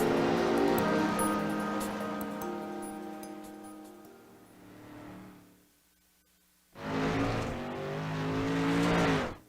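Dirt street stock race car engine in the iRacing sim at Fairbury American Legion Speedway, loud revving with rising and falling pitch, dropping off briefly before roaring back at full throttle.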